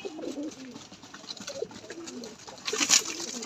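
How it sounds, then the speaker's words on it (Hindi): Pigeons coo softly while eating chana grain, low repeated cooing calls close by with a rustle of wings or movement toward the end. "ये कबूतर सारे ऊपर आ गए हैं"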